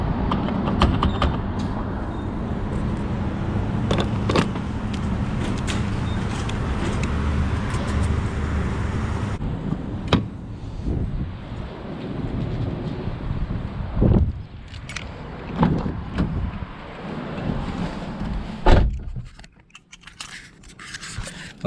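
Refueling a Ford Shelby GT500 at a gas station, with mechanical creaks, clicks and handling of the fuel nozzle over steady roadway and traffic noise, sharp intermittent knocks and clunks scattered throughout, no voices.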